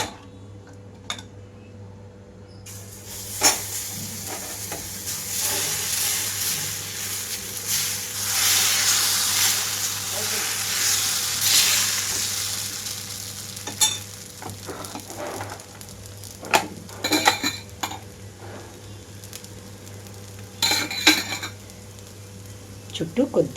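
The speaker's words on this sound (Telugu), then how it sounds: "అలాగే ఇంకొక దోశ కూడా వేసేసుకుంటున్నాను" Dosa batter made with bobbarlu (black-eyed peas) sizzles steadily on a hot pan, a broad hiss that swells and fades, with scattered clicks and clatters of utensils nearby and a faint hum beneath.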